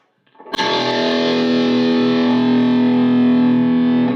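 Electric guitar played through a Blackstar Silverline amplifier on its 6L6 voice, with a punchy, full low end: a single strummed chord rings out loud and sustained for several seconds, slightly distorted, with no talking.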